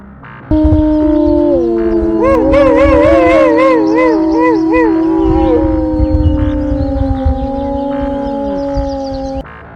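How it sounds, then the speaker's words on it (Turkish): Several wolves howl together in long, overlapping, wavering tones, loud and sustained, rising and falling as the chorus slowly fades. "Uluma, kurtların dili gibidir."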